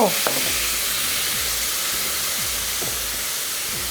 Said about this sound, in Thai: ขณะที่คอหมูย่างเราก็ย่างไป เราไม่จำเป็นต้องไปเตาย่างหรอกกระทะย่างเนี่ยง่ายๆเลยนะคะ